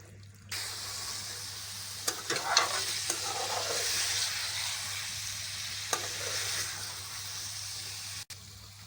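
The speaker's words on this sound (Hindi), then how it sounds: "अब आलूओं को कुछ देर के लिए मसाले में अच्छी तरह से भून लेंगे।" Potatoes frying in masala in a pan for aloo baliya, a steady close hiss of sizzling oil with occasional spoon scrapes and taps as they are stirred, no talking.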